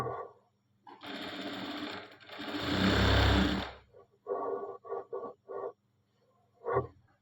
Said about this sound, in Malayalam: ഇവിടെ താഴെ നിന്ന് മുകളിലേക്കാണ് ഞങ്ങൾ സ്റ്റിച്ച് ചെയ്യുന്നത്